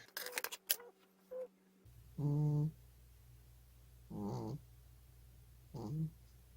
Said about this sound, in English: I think my cat's snoring.